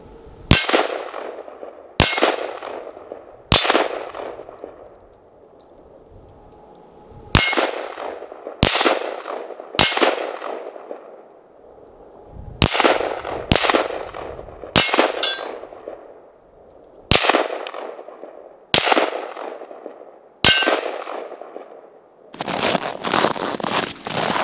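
Zastava ZPAPM70 rifle shots outdoors in snow, each a sharp crack followed by a bright ringing clang from steel targets, spaced irregularly with a few quick doubles and a rapid burst at the end.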